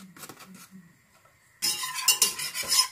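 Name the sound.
stirring butter and flour into a roux in a pan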